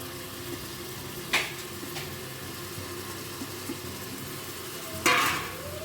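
Onions and tomatoes fry quietly in a pan with a soft, steady sizzle, and two brief louder stirring scrapes cut through.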